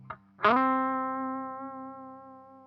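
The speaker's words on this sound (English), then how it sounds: "When you play a sustained note and you're just going through the amp itself" A single electric guitar note played through a clean amp with no effects is picked and rings out clean, sustaining and slowly fading after a short muted pluck just before it.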